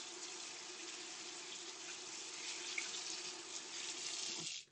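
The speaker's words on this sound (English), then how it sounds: "So run your basmati rice through some cold water" Cold tap water runs steadily over basmati rice being rinsed, a continuous close hiss of the faucet that holds evenly for several seconds, then cuts off abruptly at the end.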